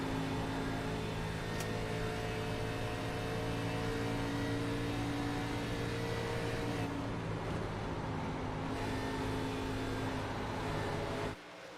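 ARCA stock race cars at Kansas clutching on corner entry, heard as a sustained, droning engine roar with steady tonal whine that holds evenly before cutting off abruptly at the end.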